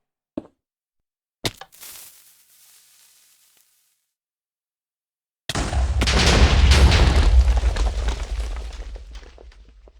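Minecraft TNT blasts in a mineshaft: two short sharp cracks early, then after a pause a loud rumbling explosion that roars and slowly fades, with no voices.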